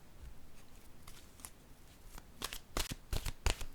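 Oracle cards being shuffled by hand during a soul-mate card reading, a series of crisp riffling bursts that grow louder and more frequent toward the end, close and alone with no talking.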